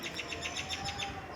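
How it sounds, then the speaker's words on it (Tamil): Small birds chirping on a morning outdoors, a string of bright repeated tweets at an even rhythm over a soft steady background hiss. "அந்த பறவை சத்தம் போடுறது ரொம்ப நல்லாயிருக்கும்."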